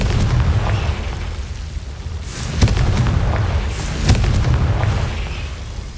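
Confringo blasting spell in Hogwarts Legacy: sharp booming bursts near 2.6 s and 4.1 s stand out against a steady low rumble of game ambience, with no talk.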